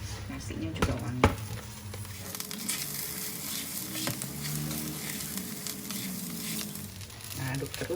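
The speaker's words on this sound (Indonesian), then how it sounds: "Kalau minyaknya udah panas, nasinya bisa kita tumis." Rice stir-frying in hot sesame and cooking oil, a steady bright sizzle that runs through the clip with scraping stirring textures; clicks and a brief pause come near the start, and the sizzle eases slightly near the end.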